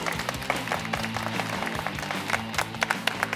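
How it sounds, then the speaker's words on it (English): Light applause from a modest audience at a spring fair pitch contest, with scattered individual claps standing out over a steady background hum and faint talk. "Let's have a round of applause for you."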